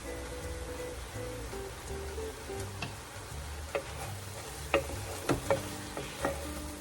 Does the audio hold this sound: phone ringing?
no